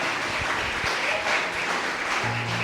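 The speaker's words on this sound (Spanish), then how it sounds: "denle un aplauso al que vive" A church congregation claps together during a Spanish-language worship service, dense and continuous applause with a low hum of voices and instruments underneath.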